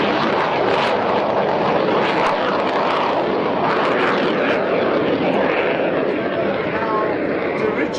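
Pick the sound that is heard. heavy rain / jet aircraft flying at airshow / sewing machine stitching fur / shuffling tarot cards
jet aircraft flying at airshow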